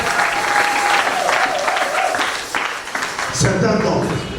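A church congregation bursts into applause, clapping spread broadly through the room, while a voice speaks over the start and the clapping swells louder toward the end.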